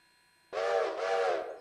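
A steam locomotive whistle in the train game Railroader, quilled in one loud, close blast of about a second with a slight dip and rise in the middle.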